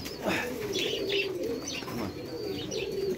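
Pigeons, a pair offered for sale at a bird market, coo repeatedly in soft, close, throaty bursts, with a few higher chirps from other birds mixed in over a busy background.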